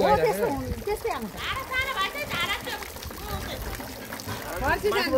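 Water trickles and splashes steadily from a village tap in the mountains of Khotang, Nepal, while several voices, including a child's, talk over it almost throughout.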